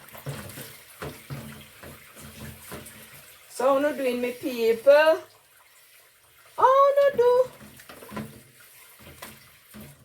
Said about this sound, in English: Washing my dishes, guys.